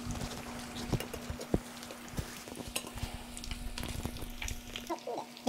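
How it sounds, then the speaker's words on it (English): Fish fries in a pan with a faint, steady crackling sizzle, scattered small pops and clicks over a low background hum, quiet and close. "frying up the fish"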